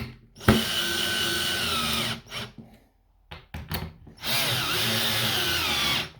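A small, cheap £15 power drill with its chuck removed whirs loudly at full speed, stops, gives a few short bursts, then runs in a long steady whine again.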